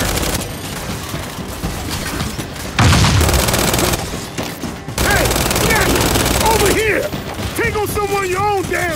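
Gears 5 firefight against a snatcher, with bursts of rapid gunfire and clanking weapon mechanisms, loud sections broken by short lulls, and chirping creature or effect sounds near the end.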